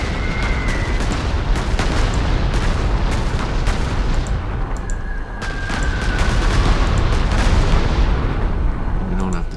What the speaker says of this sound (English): And bomb these units to oblivion.